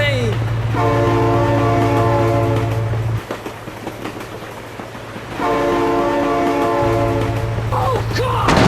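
A train rolls past in the BeamNG.drive driving game, its horn sounding in long steady blasts at the start and again near the end, with a quieter rumbling stretch of passing cars in between.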